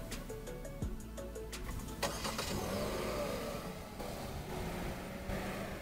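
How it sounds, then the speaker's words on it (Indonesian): A Hyundai Stargazer X, started remotely through a phone app, cranks and catches, then settles into a steady idle. Beeps precede the start, and the engine hum is heard faintly from nearby. "Jadi kita bisa menyalakan mesin yang bahkan kita bisa mematikan juga sebenarnya."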